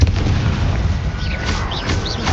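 Confringo blasting spell explosions in the Hogwarts Legacy video game, a dense, continuous low rumbling blast lasting the whole moment, loud and booming with crackling overtones.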